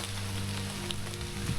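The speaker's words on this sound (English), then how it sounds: "It's still raining." Steady rain falls in a woodland at Rosliston, a constant soft hiss of drops on leaves and ground, fairly close and even throughout with no voices.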